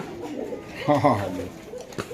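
A high flyer pigeon gives a short, low cooing burst at close range, with faint background noise around it.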